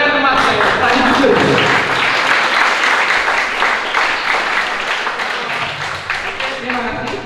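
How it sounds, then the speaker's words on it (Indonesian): Loud applause from an audience at a dental health talk at a clinic, steady dense clapping for several seconds that gradually thins toward the end, with a few voices mixed in. "Tepuk tangan ke Mas saya"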